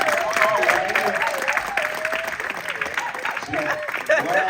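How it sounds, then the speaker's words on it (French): Church congregation applauding through an evangelical service, steady moderate clapping with a voice talking and singing-like tones over it throughout. "On va applaudir pour leur regard."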